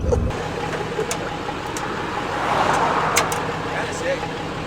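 An OBS truck drives along with a steady road and engine rumble from inside the cab, moderately loud and continuous, while a person talks over it.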